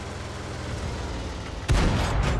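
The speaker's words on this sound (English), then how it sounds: "Ready to fire on target." A tank cannon fires in World of Tanks, a heavy sudden boom cutting through low battle rumble, followed by a sustained roar and crackle.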